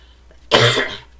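A single sharp, close cough, loud and abrupt, fading quickly.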